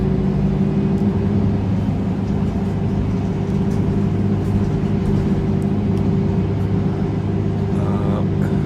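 A Mercedes-Benz Citaro C2 NGT natural-gas city bus in Ljubljana drones with a steady low engine rumble and hum, heard from inside or close by, continuous and even with no talk.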